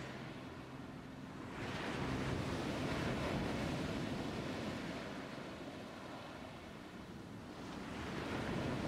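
Ocean waves roll in and wash out in slow swells, a steady broad surf roar with soft rising and falling surges and no voices.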